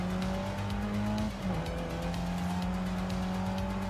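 Racing car engines drone loudly in Forza Horizon 5 with two of the same car side by side, a sustained pitched engine tone that dips briefly as the car shifts, over tire noise, with no talk.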